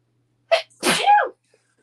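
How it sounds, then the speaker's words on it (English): A single sharp sneeze, a quick intake burst followed by a loud explosive release, close up and alone in otherwise quiet surroundings. "And I'm going to sneeze."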